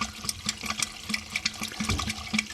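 Water gurgles and rushes steadily down a freshly cleared blocked drain, a close, churning flow with rhythmic sloshing pulses.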